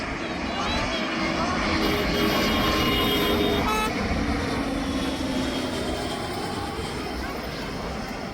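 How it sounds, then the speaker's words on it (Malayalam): A steady, broad roar of an airplane passing overhead near Karipur airport, holding loud for several seconds before easing slightly, with outdoor background noise. "ഈ മുകളിൽ കൂടി ഇങ്ങനെ പ്ലെയിൻ പോണത് അപ്പം ഒരെണ്ണം പോയി"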